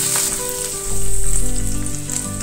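Whole garam masala with ginger and garlic frying in hot oil for a paneer butter masala gravy, a loud continuous sizzle with crackling and a brief swell midway, no voices.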